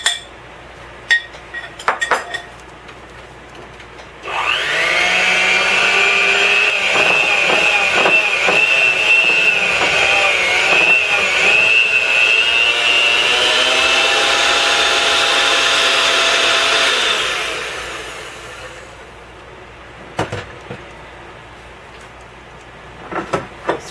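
Electric hand mixer beating sugar cookie dough in a bowl, a steady close whirring drone lasting over ten seconds with the beaters knocking against the bowl, starting and stopping abruptly with short clinks before and after.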